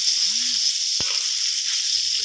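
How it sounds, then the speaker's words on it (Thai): Red chilies frying in a little oil in a wok, a steady broadband sizzle and hiss running throughout, close and even, with a few faint clinks from the pan. "ใส่พริกแดงลงไปผัดให้หอมเลยนะครับผม"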